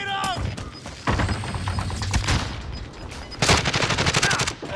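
Bursts of rapid gunfire in the Call of Duty Warzone match on Fortune's Keep, loud rattling volleys separated by brief pauses, with voices talking over the shooting.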